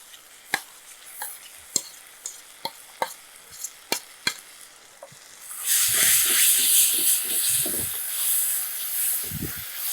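Mashed roasted brinjal is stirred and pressed into sautéed onions in a pan. A series of sharp spoon taps comes first, then a louder continuous sizzle with soft, dull thuds of mashing and stirring.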